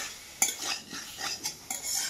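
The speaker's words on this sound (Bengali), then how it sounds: "এই যে কড়াইটা ভালো করে এইভাবে আমি এটাকে বিনা তেলে ভাজবো।" Utensil scraping and stirring in an iron kadai as something is dry-fried without oil, with irregular metallic scrapes and clinks that come close and moderately loud.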